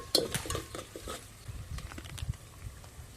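Mutton fat being stirred and fried in a pot over a wood-fired clay stove, with close clinks and scrapes of a metal spoon against the vessel over a soft, faint sizzle.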